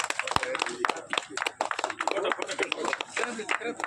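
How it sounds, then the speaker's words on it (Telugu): Scattered hand clapping at a community group's committee election meeting honouring a newly chosen president, irregular claps mixed with overlapping chatter and voices throughout. "claps claps"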